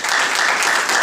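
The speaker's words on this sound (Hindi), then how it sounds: "तो ऐसी दीदियों के लिए भी जोरदार ताली बजाएं।" An audience gathered for a spiritual self-improvement class in Shimla breaks into loud, steady applause, a dense wash of many hands clapping at once that carries on without pause through the moment.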